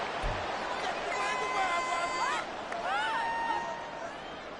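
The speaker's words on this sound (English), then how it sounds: "this crowd is making an impact right now" Stadium crowd noise in an EA Sports football video game, a steady broad roar with rising cheers and whistle-like tones, at moderate level.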